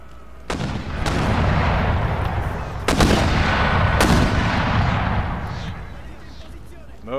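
Artillery units fire in an Empire: Total War battle, with loud booming shots at about 0.5, 3 and 4 seconds over a continuous rumble of distant battle noise.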